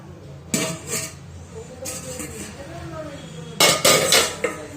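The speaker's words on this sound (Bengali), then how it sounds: "এবার ঢাকনাটা খুলে দেবো" A metal lid is lifted off a cooking pot of steamed glass pitha, giving several short clanks and clinks of metal against metal in bursts, loud and close, with no voices.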